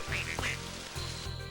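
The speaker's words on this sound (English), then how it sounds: "I heard some quacking." Short, close duck quacks from the Toy Story 2 video game's market area: a few nasal calls in quick succession over a low, steady game background hum.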